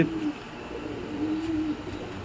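Pigeons give low, drawn-out coos, two soft calls close by over quiet room noise.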